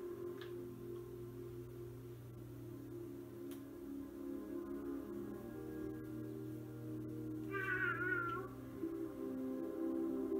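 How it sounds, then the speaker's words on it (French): A cat meows once in the South Park: The Fractured But Whole video game, a single clear wavering cry late in the clip over a steady low musical drone. "regardez le chat que tout le monde recherche"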